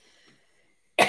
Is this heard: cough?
yes